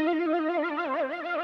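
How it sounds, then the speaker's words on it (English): Yamaha YC stage keyboard playing an FM unison lead of two parts an octave apart, a single sustained bright tone with growing vibrato, close and alone. "two FM lead parts set an octave apart."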